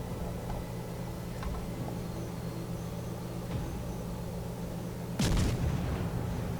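Warship guns firing in World of Warships: one sharp, loud broadband blast near the end that is followed by a rumbling decay. Before it there is a steady low engine and sea drone with a few faint distant thuds.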